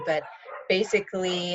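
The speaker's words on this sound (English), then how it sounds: "sorry for the dogs outside" Dogs bark outdoors in the background at an El Sobrante community meeting, faint and partly buried under a person talking throughout.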